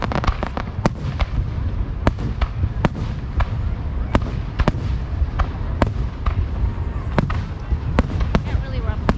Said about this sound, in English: Very close to these fireworks.